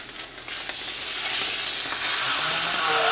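Salmon fillet for blackened salmon searing skin-side down in a smoking-hot cast iron skillet, a loud continuous sizzle and hiss that swells as the fish settles into the pan.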